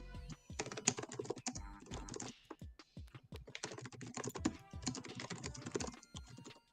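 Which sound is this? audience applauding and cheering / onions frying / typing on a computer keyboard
typing on a computer keyboard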